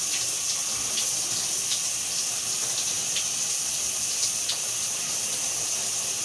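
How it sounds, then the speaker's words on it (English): Water from a shower spraying and splashing continuously, a steady close hiss with faint irregular drips and taps, and no voices throughout. "I'm in the shower now"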